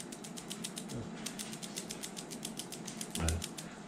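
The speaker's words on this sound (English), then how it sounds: "when I put that glass bead on there and I shake it" A glass bead on a bass fishing line between a bobber stop and a weight clicks rapidly and rhythmically as the rig is shaken, a close, steady series of sharp ticks with a soft thump near the end.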